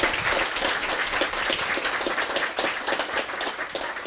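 Dense, sustained applause from an audience at the close of a breakfast seminar talk on environmental monitoring, a steady wash of many hands clapping at even loudness for the whole stretch.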